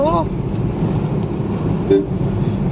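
Steady road traffic rumble with a brief car horn toot partway through, while people talk over the noise.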